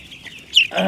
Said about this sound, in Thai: นี่คือลูกไก่ หนึ่งอาทิตย์นะครับพ่อพี่น้องลูกไก่หนึ่งอาทิตย์นะครับ